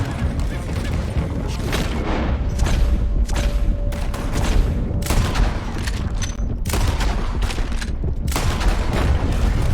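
Western-style gunfire from the game Red Dead Redemption 2 rings out in a shootout against riders, with loud close gunshots and booms in rapid scattered bursts over a constant noisy battle background.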